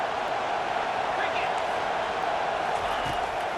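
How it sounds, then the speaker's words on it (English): Stadium crowd noise in EA Sports College Football 25 swells steadily as fans rally behind the defense on third down, a dense continuous roar with no clear peaks. "Decibels rising as the crowd gets behind this defense on third down"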